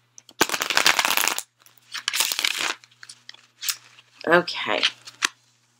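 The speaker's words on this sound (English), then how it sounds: "so I'm just going to pick 3 cards" Tarot cards being picked and laid down during a weekly tarot and oracle reading, a few bursts of papery card shuffling and slapping, close and fairly loud, with brief speech.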